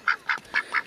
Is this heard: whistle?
no